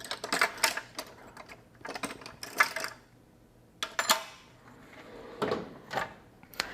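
A large toolbox drawer full of wrenches slides open with metallic rattling and clinking tools, several sharp scrapes and clanks in bursts, close by and without talk.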